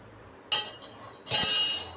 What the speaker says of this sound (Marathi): कसं वाजते पातेलं